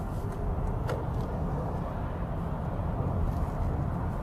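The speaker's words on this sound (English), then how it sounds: "We can do some more acceleration." Inside a 2021 Toyota Mirai fuel cell car speeding up from 70 km/h, a steady, muted road and tire rumble fills the cabin with no distinct engine roar.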